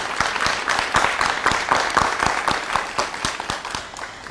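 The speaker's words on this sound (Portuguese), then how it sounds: "Uma salva de palmas aos nossos patrocinadores." An audience applauds the sponsors at a conference on population and development, a crowd clapping steadily for several seconds with some sharper individual claps standing out near the microphone.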